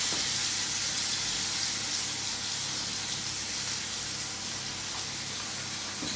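A steak searing in a hot pan gives a steady, close, bright hiss of sizzling fat that holds at an even level throughout with no talking.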